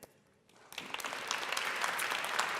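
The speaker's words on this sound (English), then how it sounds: "another round of applause to the contestants" A conference audience bursts into steady applause for competition contestants after a brief quieter moment, the clapping swelling and holding strong to the end.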